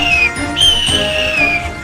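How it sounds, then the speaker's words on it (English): A steam locomotive's high, steady whistle sounds over a busy rumbling background, holding most of the time with a brief break before resuming. "He whistled through Edward's station"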